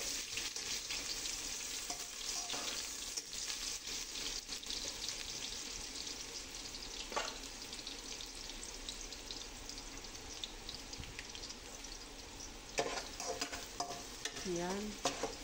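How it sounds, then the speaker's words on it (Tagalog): Ginger sautéing in hot cooking oil for batchoy: a steady, fairly loud sizzle with continuous stirring throughout, and a few sharper clinks and scrapes near the end. "lagyan muna natin ng mantika. So lagyan na natin ang luya"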